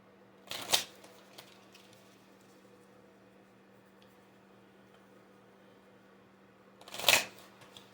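A deck of tarot cards being shuffled, two short riffling bursts close by, one at the start and one near the end, separated by a long quiet stretch.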